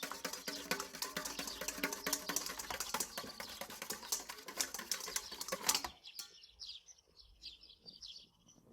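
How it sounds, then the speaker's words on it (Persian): Two eggs are beaten in a bowl with a hand whisk, making rapid, steady clicking strokes for about six seconds. The whisking stops abruptly and leaves quieter, scattered high chirps. "با همزن دستی هم بزنید"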